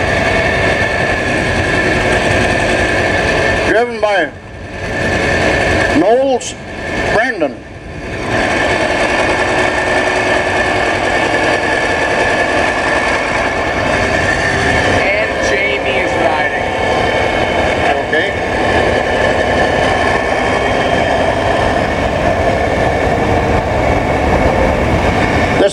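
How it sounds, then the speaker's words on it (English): A 1963 John Deere 5020 tractor at a two-cylinder club show runs with a loud, steady engine drone throughout, briefly dipping around a few seconds in, while someone talks over it. "Here's a 5020, which was the biggest tractor you could buy then."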